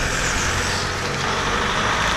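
Rain-soaked roadside where a car rushes past, a steady broadband wash of tyre hiss and engine rumble holding loud and close for the whole stretch, with no voices.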